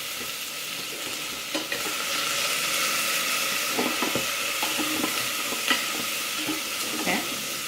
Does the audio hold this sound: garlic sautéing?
yes